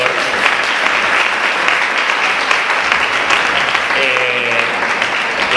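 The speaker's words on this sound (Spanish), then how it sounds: "Un fuerte aplauso para los autores y los lectores" Audience applause at a reading of texts during a book fair, a dense, steady wash of clapping sustained loudly throughout, with a faint voice briefly audible near the end.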